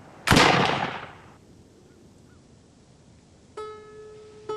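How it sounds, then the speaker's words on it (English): A smoothbore musket fires once on a range, a sharp loud blast whose long rumbling echo fades over about a second, followed by quiet outdoor air and faint ringing tones near the end. "a smoothbore musket is fired on the same range"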